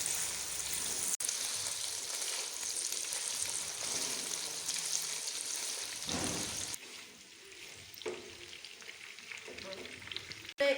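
Meat, gosht for a spinach palak gosht curry, frying until golden in a pot, a steady loud sizzle that continues close up, quieting somewhat near the end with a few stirring clatters.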